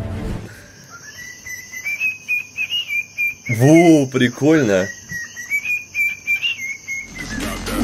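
A parrot whistles a learned melody in clear, rising and falling tonal phrases, close and fairly loud, with a person speaking briefly partway through.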